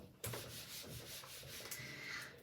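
A green marker squeaks and rubs across a board in short strokes, close and fairly steady, with no voices over it.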